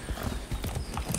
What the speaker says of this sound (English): Hang on, the horse is over here, isn't it?